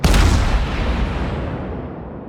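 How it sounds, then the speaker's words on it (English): A ship's main battery in World of Warships fires in ripple salvos at a Tashkent destroyer, a loud booming blast at the start trailing off into a long rumbling decay. "I keep using ripple fire to make sure that I've got the best aim possible."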